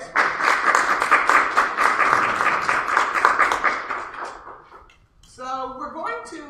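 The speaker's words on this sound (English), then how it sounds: "Please, a round of applause for our panel of experts." An audience applauds an expert panel at a community forum on the opioid crisis, with a dense, steady roar of clapping for about four seconds that fades out, followed by a voice speaking.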